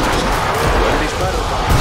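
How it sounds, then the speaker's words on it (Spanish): Gunfire in the video game Killing Floor 2 on the classic West London map: a dense, loud, continuous barrage of shots and booming impacts with no pause across the whole stretch. "buen disparo."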